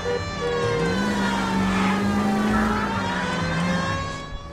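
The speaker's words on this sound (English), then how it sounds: "Code 3 means put on the siren, let's go." Police car siren in the video game L.A. Noire, a steady wailing tone rising and falling continuously throughout, loud and close over a low engine rumble, with no talking.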